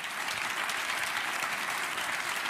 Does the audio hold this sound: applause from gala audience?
yes